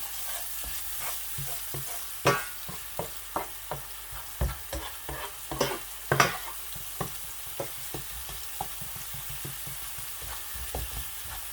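Spoon stirring garlic paste and cumin in hot oil in a pan, scraping clicks and taps over a steady gentle sizzle, close up.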